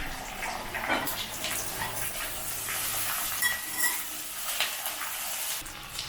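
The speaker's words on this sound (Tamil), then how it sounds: "ஒரு 2-3 நிமிஷம் கத்திரிக்காய் வந்து ஃப்ரை ஆகணும்." Brinjal (eggplant) frying in sesame oil in a pan for a Tamil dish: a steady, close hiss and sizzle with occasional stirring scrapes, continuous throughout, no talking.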